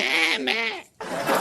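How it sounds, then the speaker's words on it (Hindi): A goat bleats loudly and up close, giving a long wavering cry, then a short break before a second bleat begins. "बकरी क्या कहती रहती है?"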